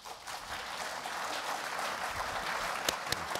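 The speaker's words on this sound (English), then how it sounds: "Could you applaud?" Audience applause at a political discussion event, a fairly faint, steady patter of clapping from a crowd with a few sharper claps near the end.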